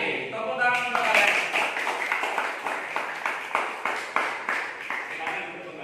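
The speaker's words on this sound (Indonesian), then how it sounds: "Tepuk tangan untuk kalian." Students clap in a classroom, a dense run of hand claps that settles into a steady, rhythmic beat, fairly close and moderately loud, with a few voices mixed in.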